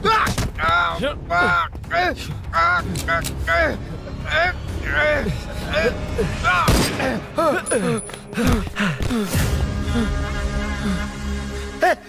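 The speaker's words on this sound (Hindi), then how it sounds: "गोली क्यों चलाई?" Gunfire crackles in a tense action scene, with several sharp shots and thuds scattered among urgent shouting voices and passing vehicle noise, loud and close.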